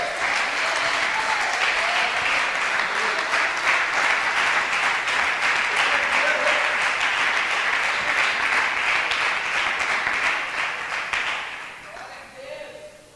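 A church congregation claps for Jesus in dense, sustained applause for about eleven seconds with a voice running faintly underneath, then the clapping fades out quickly.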